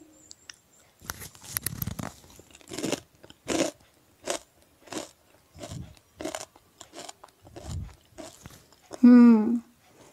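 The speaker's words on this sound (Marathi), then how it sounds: "तुम्हाला एक मी ही भेंडीचं काप खाऊन दाखवते." Crispy fried okra slices (bhendi fry) are bitten and chewed close up, giving a series of sharp crunches in an uneven rhythm with quiet gaps, ending in a brief louder vocal sound.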